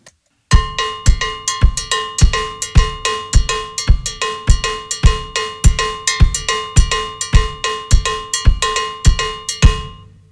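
Drum kit playing a Mozambique cowbell pattern, bright bell strokes in a steady repeating rhythm over bass drum and snare, loud and close with no talking, stopping cleanly at the end.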